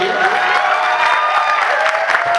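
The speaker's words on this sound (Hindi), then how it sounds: "हमारे आर्टिस्ट के लिए जाते जाते तालियों का आशीर्वाद दीजिए" An audience gives a dense, steady round of applause for the performers at the close of a staged Uttarakhand folk show, loud and continuous with some faint cheering mixed in.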